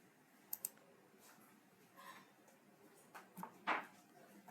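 A computer mouse clicks while someone browses stock fund listings: a few faint, sharp clicks are scattered over several quiet seconds, with a clearer click near the end.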